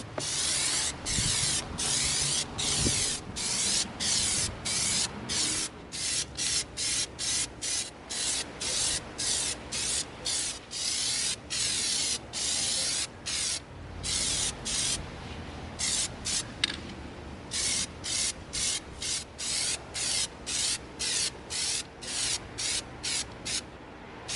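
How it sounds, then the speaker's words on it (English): Repeated short bursts of Plasti Dip aerosol spray coating an EVA foam prop grenade launcher, close and loud, hissing in quick pulses with brief gaps, some faint rustling between them; no talking. "We coated our grenade launcher with several coats of Plastidip"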